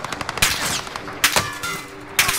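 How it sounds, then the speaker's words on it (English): Gunfire in the video game Rebirth, several loud sharp shots in bursts over a quicker patter of distant rapid fire. "Oh, I'm getting shot at from behind."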